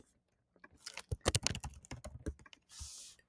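Quick, irregular clatter of keys on a computer keyboard, close and fairly quiet, ending with a short burst of soft rushing noise.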